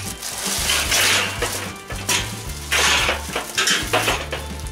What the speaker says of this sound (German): Zwei Gitter